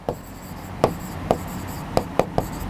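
Chalk or marker strikes on a board as letters are written during a history lesson: six sharp taps at uneven intervals, close and clear, with no talking.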